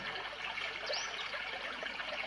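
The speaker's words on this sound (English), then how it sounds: "there are 3 different variations of trickling water, river or brook" A white noise machine plays a soft, continuous trickling-water track with a faint, brief bird chirp; steady and quiet, with no talking.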